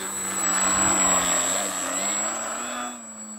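RC Turbo Beaver model airplane hovering balanced on its propeller with flaps down, a steady buzzing motor drone with a slowly shifting pitch that holds for about three seconds and then drops away near the end.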